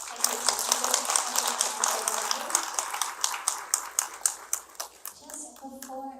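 Audience clapping after a spiritual talk, a run of distinct hand claps at a lively rhythm that thins toward the end, with a voice speaking through and after it.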